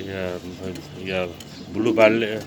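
Exhibition pigeons at a farm give a few low coos close up, broken by short clinks of metal or dishes.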